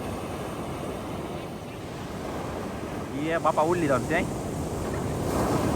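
Sea waves wash and roar steadily around a fishing boat at sea, mixed with wind buffeting the microphone, while a man calls out briefly partway through.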